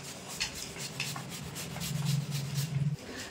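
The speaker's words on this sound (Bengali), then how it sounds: "আমি এই যে একটু তরমুজ নিয়েছি এক টুকরো নিয়ে কিন্তু এরকম গ্রেট করে নেব" Pieces of watermelon are rubbed across a kitchen grater, producing repeated raspy scraping strokes at close range, quiet with a few firmer rubs toward the end and no talking.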